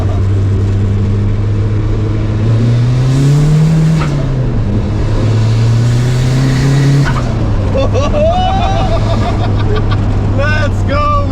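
A 400+ HP VW Golf MK2 TDI with no air filter drones loudly from inside the cabin on a test drive, the diesel engine rising and falling in pitch as it accelerates, with people talking over it.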